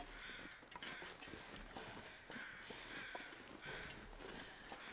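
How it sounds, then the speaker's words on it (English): Crows caw repeatedly at a distance in The Long Dark survival game, harsh calls recurring in bursts over constant wind-like ambient noise. "I hear crows, which I do not like the sound of that."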